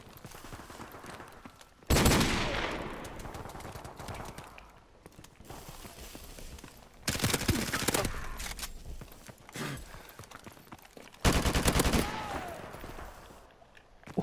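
Video game gunfire in loud bursts, three sharp volleys of rapid shots at regular intervals, with quieter ambient stretches between them.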